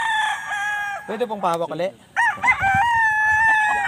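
Red claret gamefowl rooster crowing at a farm, two close loud crows with clucking between them, and someone speaking briefly in the middle.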